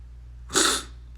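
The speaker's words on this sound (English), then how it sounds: "sneezing so much" A single sharp sneeze, close and fairly loud, bursting out with a breathy hiss and fading quickly against a low steady hum.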